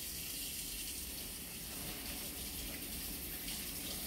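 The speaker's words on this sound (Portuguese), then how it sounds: "passando a água." Water runs from a tap to rinse the dust out of an air conditioner filter, giving a steady, close, full hiss and splash that continues without a break and with no talking.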